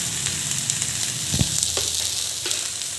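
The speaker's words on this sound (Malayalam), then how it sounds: "ഇനി ഇത് ഞാൻ ചെറുതായിട്ടൊന്ന് വാട്ടിയെടുക്കുന്നുണ്ട്" Okra, or ladies finger, sautés gently in a pan with a constant close sizzle, broken by a few soft scraping clicks from stirring.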